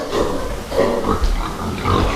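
Several pigs grunting and oinking close by on a pig farm in Denmark, overlapping snorts in a busy, continuous farmyard chorus.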